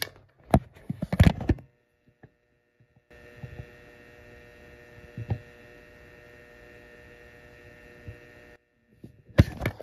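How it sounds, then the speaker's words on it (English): A 3.5-watt preheat fluorescent night light running on 60 hertz mains gives a steady, faint electrical hum with a harmonic buzz. It holds for about six seconds, with brief handling knocks before and after. "Hopefully you guys can hear that ballast sound"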